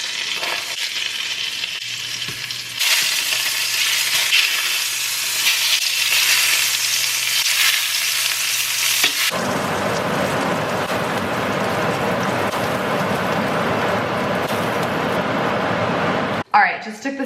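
Salmon fillets frying in a pan with olive oil or butter, a loud steady sizzle that swells sharply partway through, then continues as a dense crackling hiss before cutting off near the end.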